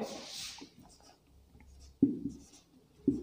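A pen scratches across paper in quick, soft strokes while a chemistry solutions problem is worked out, with two sharper taps near the end.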